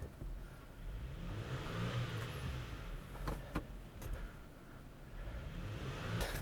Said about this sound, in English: I'm just gonna leave it in drive because I want to see that wheel spinning.